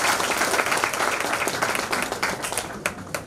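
Audience applause at an annual union election meeting in 2018, welcoming a senior vice president: a dense, steady wash of many hands clapping close by for the whole stretch, with no talk over it.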